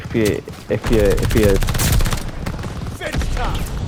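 SMG fire in the Call of Duty Vanguard video game: loud rapid bursts of automatic shots, several short volleys then a longer sustained burst, close and dominant with game effects behind.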